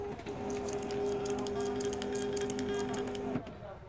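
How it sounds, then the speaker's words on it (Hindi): A Zebra TLP2844 direct thermal label printer prints labels with a steady whirring motor hum and light ticking for about three seconds, then stops abruptly. The sound is close and moderately quiet. "ये इसकी प्रिंटिंग आ गई।"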